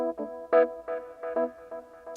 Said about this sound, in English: Now I'm using this echo to just add some echo, set to ping pong, dotted eighth notes